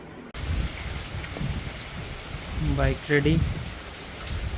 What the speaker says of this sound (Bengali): বৃষ্টিটা কিন্তু ভালো জোরেই পড়ছে